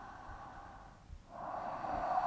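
Slow, deep breathing while holding a yoga pose, with a long exhale, a brief pause, then another drawn-out breath, soft and close.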